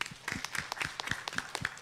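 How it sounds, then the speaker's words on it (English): Sparse, scattered clapping from a small group at a university political forum on women in politics, distinct individual hand claps in a loose rhythm, close and moderately loud. "Let's give her a round of applause."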